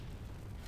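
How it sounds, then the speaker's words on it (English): Barrels exploding in the video game Torchlight 2, a short, dense burst of blast noise heavy in the low end, filling the whole brief moment at fairly low level, with no talking. "Explode these barrels."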